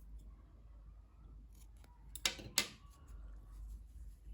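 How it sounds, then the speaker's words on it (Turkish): Scissors snip the end of crochet yarn, two crisp close cuts in quick succession against a quiet room hum. "Bakın şu ipliğin ucunda kesiyorum."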